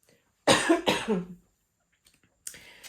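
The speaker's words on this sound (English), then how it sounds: "please excuse me with the coughing here" Two harsh coughs in quick succession, close and loud, followed by quiet and a fainter breathy sound.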